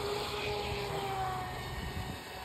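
The motor of a Pro Boat Recoil 2 RC boat runs with a continuous, high, whining drone, fairly faint and steady, with no voices.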